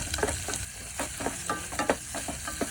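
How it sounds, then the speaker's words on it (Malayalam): Ginger and green chilli sizzle and fry in a pan outdoors, with steady close crackling and repeated sharp stirring scrapes of a spoon against the metal, no voices. "ആദ്യം നമ്മൾ ഇതിലോട്ട് ഇഞ്ചി ഇടും പച്ചമുളക് ഇട്ട് പെട്ടെന്ന് പെട്ടെന്ന് എല്ലാം കട്ട് ചെയ്തിടുക മൂപ്പിച്ചെടുക്കുക"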